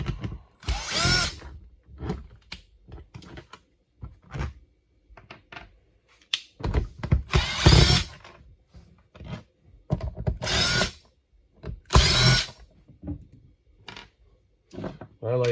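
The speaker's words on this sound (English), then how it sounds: "go ahead and get the drill out" Short bursts of a power drill whirring in several separate spurts, removing screws from the case of a Husky 50ft extension cord reel, close by, with quiet gaps and small clicks between them.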